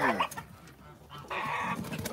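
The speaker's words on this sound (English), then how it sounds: "That's an Orpington rooster." A Buff Orpington rooster and hens clucking outdoors in Georgia, short close calls coming in a few bursts with little talk over them.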